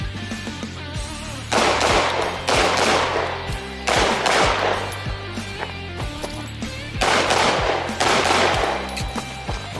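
Rapid pistol fire on an IDPA shooting stage, loud close bursts of shots in several clusters separated by short pauses, over steady outdoor background noise.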